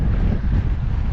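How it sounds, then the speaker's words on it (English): Wind buffeting a cyclist's microphone on a road shoulder ride in the Colorado passes, a steady low rumbling roar that fills the whole moment with no other sounds. "Bit windy."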